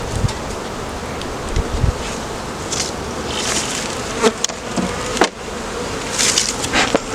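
Honey bees buzz steadily around an open hive during spring splits, a dense, close insect drone with occasional louder passes and brief handling knocks, no voices.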